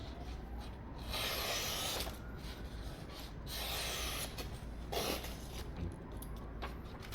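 Knife blade stroked back and forth on a 1000 grit polishing stone, giving a continuous close, soft rasping and rubbing with slight swells between strokes.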